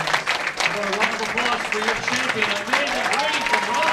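Crowd applause after a PWBA women's bowling championship win, steady clapping under excited talk from nearby voices.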